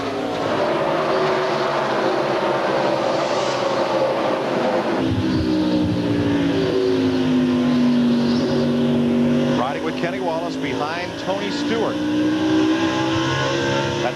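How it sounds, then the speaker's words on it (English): A NASCAR stock car engine at Richmond rises and falls as the driver feathers the throttle during the 2003 Pontiac Excitement 400, its pitch sweeping steadily while an announcer talks over it. "you hear the throttle in Kenny's car"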